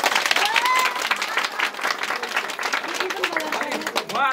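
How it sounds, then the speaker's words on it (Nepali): Loud, sustained applause from an indoor crowd celebrating a couple's 25th wedding anniversary, steady clapping throughout with voices mixed in. "उहाँको मायाको लागि एकचोटि जोरदार ताली बजाइदिनु"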